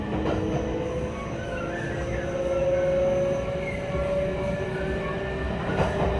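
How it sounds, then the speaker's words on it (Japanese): A Kintetsu Ise-Shima Liner train runs along the line, heard from on board: steady rumbling wheel and motor noise with a rising whine and faint rail clatter, continuous at moderate volume. "僕は結構伊勢志摩ライナーの音も好きだったりします"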